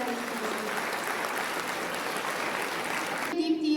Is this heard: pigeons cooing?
no